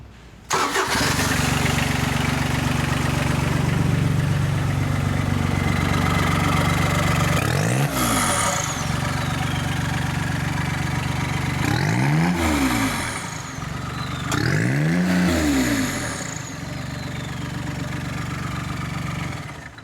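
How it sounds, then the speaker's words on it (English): A Daihatsu diesel engine of 40 to 42 horsepower, fitted in a custom turbo Kawasaki Mule utility vehicle with the engine cover off, starts up and idles roughly. It then revs sharply three times, loud and close. "Start up here while you got the engine cover off."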